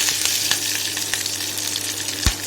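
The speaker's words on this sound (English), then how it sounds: "We will stir this once and then add our curry leaves. We will now stir this well." A tempering with curry leaves for khandvi sizzles loudly in hot oil while being stirred, a dense, bright crackle with a few sharper pops and a spoon scrape near the end, close and without talk.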